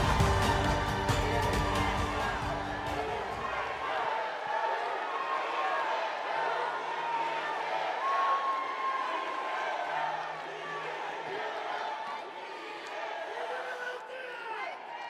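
Crowd at a party convention rally in Incheon applauds and cheers, a broad sustained roar of clapping and voices fading gradually, with music at the start and an announcer's amplified voice over it.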